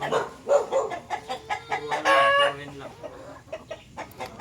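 Laying hens cluck close by in a busy, overlapping chorus, with one louder drawn-out call rising briefly in the middle over the steady clucking.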